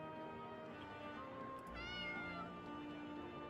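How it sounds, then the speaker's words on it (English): A cat meowing in the Aretisia video game, a single drawn-out meow rising over a quiet sustained musical background. "you can get it to meow"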